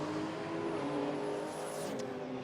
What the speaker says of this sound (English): Clean launch for the Charger.